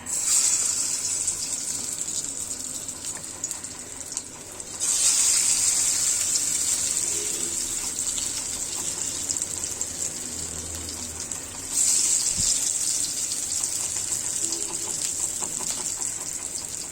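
Beef pieces for chops dropped into hot oil in a pan and frying, a steady broad hiss that swells sharply at the start and again partway through, close and loud with no talking.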